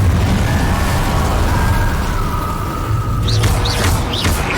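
A fire spell cast in Hogwarts Legacy roars as a steady, dense rumbling burst, with a few brighter crackling flicks near the end, loud and continuous without speech.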